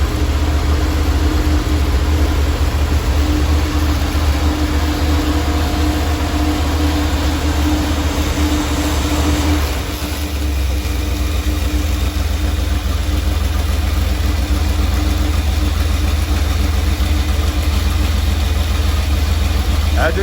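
Engine idling with a slightly rough, uneven note, holding 66 psi of oil pressure while warming up after being revived; a steady low rumble runs throughout, close and loud, with a brief dip near the middle.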